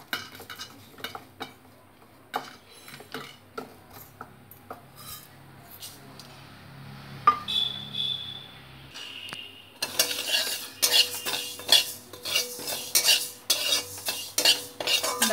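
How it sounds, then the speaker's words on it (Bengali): Mung dal being dry-roasted in a dry iron wok and stirred, rattling scrapes and clinks of a spatula against metal at first, then a brighter, denser grainy rustle near the end, close by, with no talking. "এটাকে আমি লাল করে ভেজে নেব"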